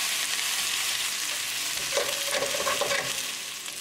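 Breaded chicken thighs fry in a pan on medium-low heat with a steady, bright crackling sizzle, joined by a few scraping stirs against the pan toward the end.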